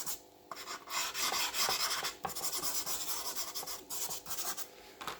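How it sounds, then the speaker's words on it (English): A drawing medium is rubbed and smudged into paper by hand, a close, continuous dry rasping scrape in long strokes with short pauses, no voices. "You need to rub it into the page."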